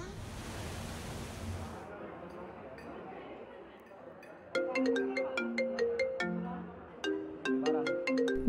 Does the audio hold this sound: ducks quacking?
no